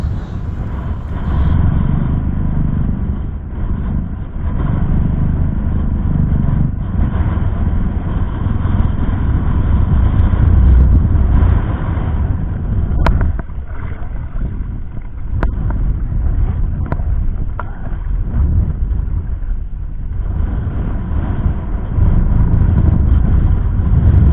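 Strong wind at sea roars steadily across the microphone for the whole stretch, with a boat engine droning underneath and occasional knocks.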